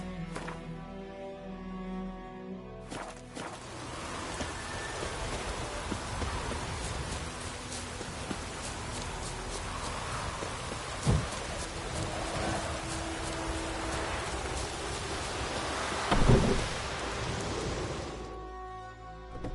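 Steady rain pours down in The Witcher 3, a broad, even hiss holding for most of the stretch, with a couple of brief low rumbles from thunder midway and near the end. Everything cuts off abruptly at both ends.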